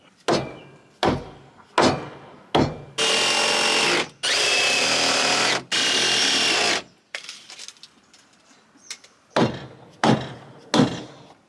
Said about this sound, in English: I'm going to put a couple of screws going down into another support piece here